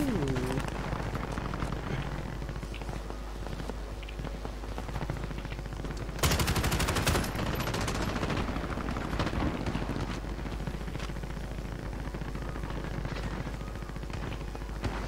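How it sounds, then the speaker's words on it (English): Rapid gunfire from the video game Call of Duty Warzone, with dense bursts over a constant game soundscape and a loud flurry of shots midway through. "I can hear the bullet fires."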